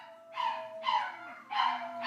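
Several dogs bark indoors at someone outside, short sharp yips and barks coming in three or four bursts at a moderate distance, with no talk over them.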